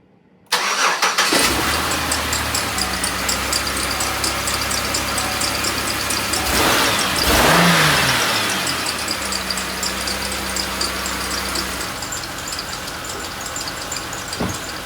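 A 2009 Chevrolet Impala with a cylinder 3 misfire cranks and fires up after a moment of silence, then runs with a steady, slightly rough idle and one brief rev midway, close and loud.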